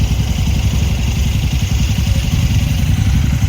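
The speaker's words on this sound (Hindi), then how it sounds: "बाइक वार्म अप चल रहा है" A motorcycle engine idles while warming up at a desert resort near Jaisalmer, a loud, close, steady low thumping rumble with a fast, even pulse throughout.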